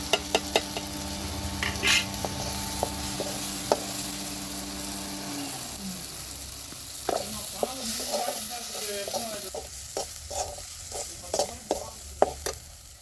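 Ground spice paste sautéing for a homemade egg gravy, with steady sizzling in the pan and intermittent scraping and clinking of a spoon as it is stirred, close and fairly loud, no talking.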